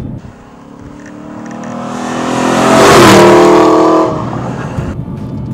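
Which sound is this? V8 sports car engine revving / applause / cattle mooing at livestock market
V8 sports car engine revving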